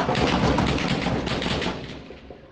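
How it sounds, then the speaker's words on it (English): A dense, rumbling burst of gunfire echoing loudly through streets in West Kingston, Jamaica, blending into a continuous roar that slowly fades. "Gunshots echoing in West Kingston."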